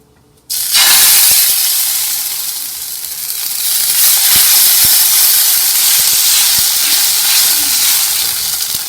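Adai rice batter hits a hot, smoking dosa pan and sets off a loud, steady sizzle that starts abruptly and holds throughout, with faint crackles and pops under the hiss.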